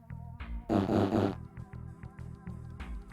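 A loud, low, buzzy fart sound effect bursts out for about half a second, standing above quieter tonal background sound.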